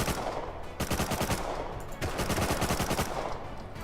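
Rapid automatic gunfire from the Rust survival game, dense bursts of shots crackling almost continuously, loud and close, with a short gap before the firing resumes.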